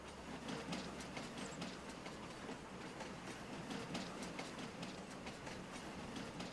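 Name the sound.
train with two engines in Farming Simulator 25 video game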